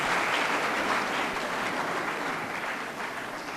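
Sustained audience applause for a speaker at a live regional ministers' event, a dense steady wash of many hands clapping that tapers slightly toward the end.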